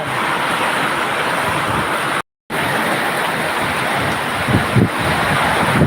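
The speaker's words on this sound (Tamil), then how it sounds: "இப்போதாங்க காத்தடி பயங்கரமான காத்தடி" Strong wind roars steadily across the microphone, a loud, constant rushing with gusty buffeting and a brief dropout.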